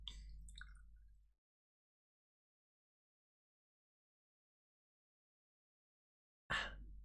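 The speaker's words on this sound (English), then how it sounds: "Time to water the turnip again." A turnip being watered in a video game: a brief soft watery splash, a long stretch of silence, then another short liquid burst.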